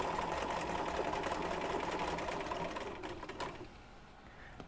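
A sewing machine stitches a quarter-inch seam on a sampler quilt block, running in a steady rapid whir for about three seconds before slowing and stopping.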